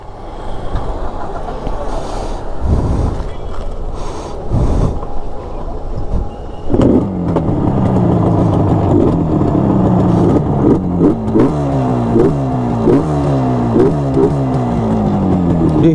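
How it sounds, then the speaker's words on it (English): A Yamaha RD350 HT two-stroke motorcycle fires up after a few seconds of someone talking, then idles roughly and is blipped in repeated loud revs close by. "Let me fire the bike up and let's hear to the roar of the RD350."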